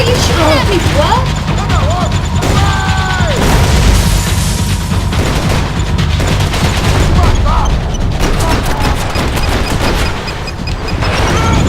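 Enemy gunfire in Max Payne 3, loud and relentless with rapid repeated shots and booms layered over dense game noise while someone talks.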